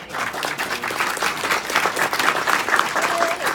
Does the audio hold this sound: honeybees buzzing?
no